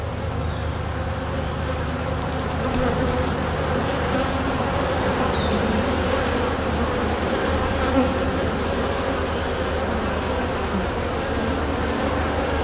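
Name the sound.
honey bees buzzing at a hive while comb is removed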